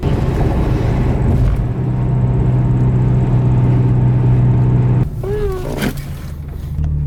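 Steady engine hum from a car's cabin while driving, loud and continuous, with a brief squealing tonal sweep and clatter near the end.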